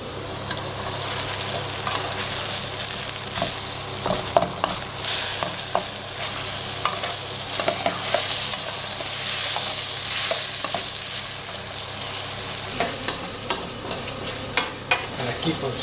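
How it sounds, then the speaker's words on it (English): Onion and garlic fry in a pan for Central Asian chicken pilaf, a constant close sizzle broken by repeated scraping and clacking stir strokes that come in irregular bursts throughout. "I'm going to add in the onion and also the garlic."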